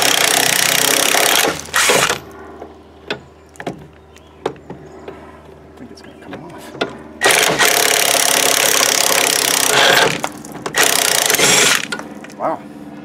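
Bolts come off a Draw-Tite 41944 trailer hitch on a 2002 GMC Sierra under an impact tool, loud bursts of rattling hammering alternating with quieter clanks and ticks of metal parts between them.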